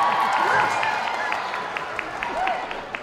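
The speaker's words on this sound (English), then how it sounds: "Now take back that applause for Lizzie" A cosplay awards crowd at Zenkaikon 2022 claps and cheers for the judges while a presenter talks over the fading applause.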